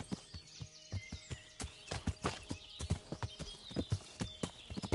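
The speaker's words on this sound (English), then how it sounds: "Horse is struggling a little bit." Horse galloping up a steep hill in the video game Kingdom Come: Deliverance, crisp rhythmic hoofbeats thudding close and loud in an uneven, laboring pattern, alone without talk.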